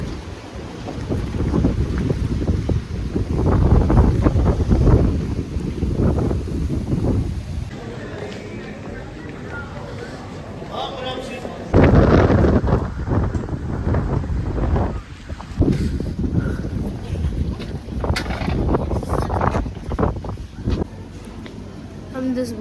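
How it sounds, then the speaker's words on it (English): Strong outdoor wind buffeting the microphone, rumbling and gusting loudly throughout, with someone talking over it. "It's so windy here."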